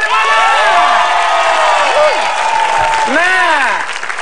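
Studio audience on an Indonesian TV game show clapping and cheering loudly, with shrill whoops and children's shouts sweeping over the steady applause, close and energetic throughout.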